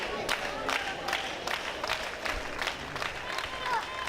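A wrestling show crowd at a CCW event cheering and clapping in a steady, moderately loud roar, with scattered shouts rising and falling throughout.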